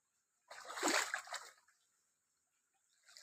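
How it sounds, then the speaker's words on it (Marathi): Water splashes and gushes briefly while irrigating chikoo trees on a farm, a close burst lasting about a second before fading to near silence, with a faint trickle at the end. "पाणी चालू आहे चिकवाला पाजायला चालू आहे"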